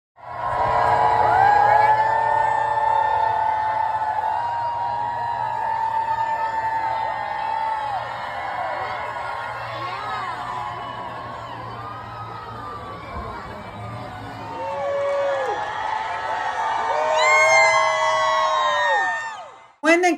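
A large crowd at a block party cheers, whoops and shouts as the king and queen arrive in Virginia, with children's cries mixed in. The roar holds steady for about twenty seconds, then swells again before ending abruptly.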